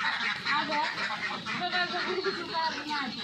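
Ducks raised in a confined house quack and chatter nearby in a busy overlapping flock, with a person talking over them.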